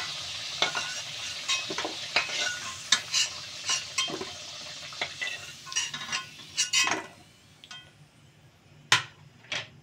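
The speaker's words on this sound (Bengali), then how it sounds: "এক এক করে আলুগুলোকে তুলতে থাকি" Potatoes frying in hot oil while being lifted out one at a time for a yogurt chicken dish, with a soft sizzle and a string of sharp clinks and scrapes from a utensil against the pan, close and unhurried, no talking.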